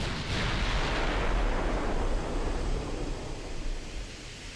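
A heavy naval gun blast in the video game Ultimate Admiral: Dreadnoughts, one deep booming report that rumbles on and slowly fades over several seconds.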